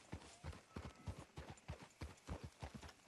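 Horse hooves clip-clop in a steady walking rhythm on a town street in Red Dead Redemption 2, the clear, evenly spaced thuds close and continuous.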